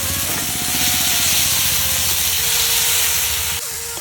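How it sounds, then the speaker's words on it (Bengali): Steady, loud sizzling hiss of home-grown eggplant frying in hot oil, continuous throughout with a faint tone underneath, dropping off slightly at the end. "বেগুনটা হালকা ভেজে নিলাম"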